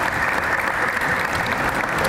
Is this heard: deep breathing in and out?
no